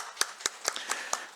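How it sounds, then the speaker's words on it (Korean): Members of a Korean church congregation give encouraging applause, heard as six spaced, fairly faint claps in a steady slow rhythm. "우리 격려 박수하겠습니다."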